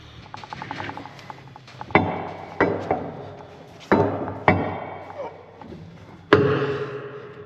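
A metal pry bar levers and knocks against parts while working on a John Deere 350G excavator's new pro link thumb, giving a series of sharp thuds and clanks spaced a second or so apart over a dull background.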